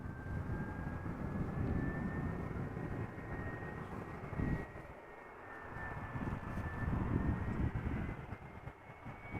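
An ITA Airways airliner in Azzurro livery moves at Amsterdam Schiphol Airport, its jet engines giving a steady, moderately distant rumble and roar that swells and dips slightly, with a thin whine held above the broadband noise.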